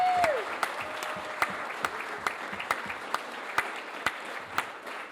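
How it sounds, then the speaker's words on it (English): Sustained audience applause fills a Phoenix talks-event hall, a dense steady patter punctuated by sharper individual claps at a fairly even rhythm, with a brief tone at the very start. "give yourself a huge round of applause for showing up tonight"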